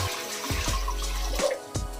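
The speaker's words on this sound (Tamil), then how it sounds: "தண்ணி சேர்த்துக்கலாம்." Tap water runs into a cooking pot before boiling potatoes, a steady splashing flow with a few brief surges and pauses, close and fairly loud.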